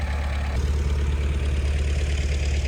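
A tractor engine works on digging out a site for a garage slab, running loud and close with a steady rumbling drone and a slight throb throughout, with no voices.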